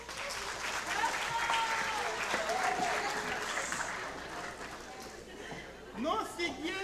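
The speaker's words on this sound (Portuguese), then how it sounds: "Un aplauso, pe." An audience at a comedy show in a hair salon setting applauds for a model's hairstyle, with a sustained burst of clapping that thins out toward the end, some chatter and a voice mixed in.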